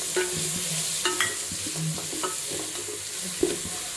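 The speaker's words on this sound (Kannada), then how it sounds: "ಈಗ 3 ಥರದ ಕ್ಯಾಪ್ಸಿಕಮ್ನ ಹಾಕಿ 1 ನಿಮಿಷ ಫ್ರೈ ಮಾಡಿ ಆಮೇಲೆ ನೂಡಲ್ಸ್ ಹಾಕೋಣ" Three kinds of capsicum stir-fried with vegetables in a pan for Hakka veg noodles, a steady sizzle broken by repeated scraping and clattering strokes of the spatula, close and alone with no talk.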